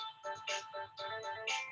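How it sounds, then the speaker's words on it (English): A phone ringtone chimes during an online fisheries and ecology conference presentation, a repeating electronic melody in bursts, moderately loud and clear, with no talk over it. "sorry, I get a phone call"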